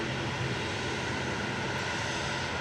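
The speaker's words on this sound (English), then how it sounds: "It's a little Pilatus PC24 heading over to Dublin there." Pilatus PC-24 business jet departing Manchester Airport for Dublin, heard as a steady, broadband jet roar held at an even level throughout, with no voices over it.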